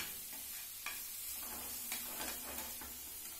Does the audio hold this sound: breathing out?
no